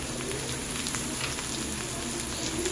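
Yardlong beans hit a hot pan and fry with a steady, dense sizzle, close and continuous, with no voices.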